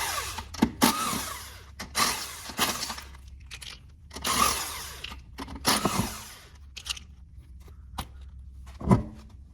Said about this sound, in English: So we're gonna buzz these lug nuts off right here.